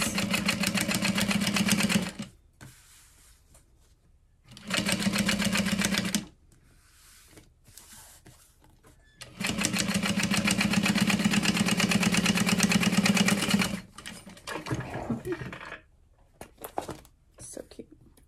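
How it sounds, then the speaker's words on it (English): A sewing machine stitches through a clear vinyl seam allowance in three loud, close bursts of rapid needle chatter, with quiet pauses and faint handling noises between them. "we're sewing through that seam allowance"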